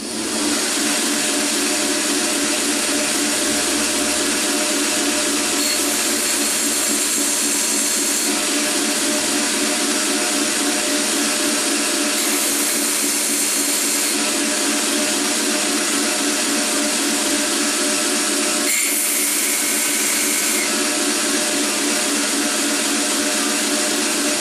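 A belt grinder runs continuously while rough grinding the hollow grind into a knife blade, a steady loud whir with a broad hiss of abrasive on steel, swelling slightly as the blade is pressed and lifted.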